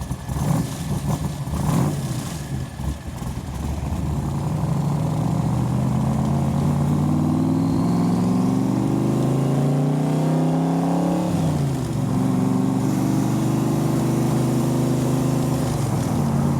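A 1965 Backdraft Cobra with a Roush 427 engine accelerates hard through the gears, its loud close engine roar climbing in pitch, dropping at each shift and rising again over a sustained run.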